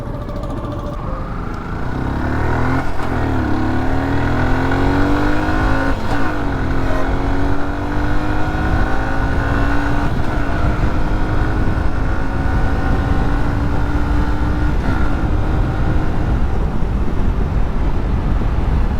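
Yamaha motorcycle ridden at speed on roads around Kundapura, engine droning loud and close with rising pitch through repeated gear shifts and a constant rush of wind.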